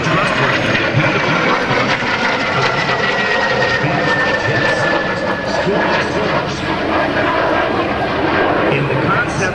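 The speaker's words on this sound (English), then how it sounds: "From the left is the T-39 Sabreliner, flown by Navy Commander James P. Reynolds" A T-39 Sabreliner jet trainer flying past at a Blue Angels homecoming airshow, a loud continuous engine roar with a slowly shifting whine, under an announcer's voice.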